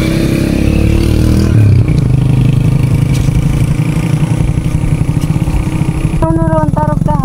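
Motorcycle engine churning through a flooded road during a typhoon, a steady low rumble with clattering and splashing throughout, closer and louder toward the end, with a voice speaking over it.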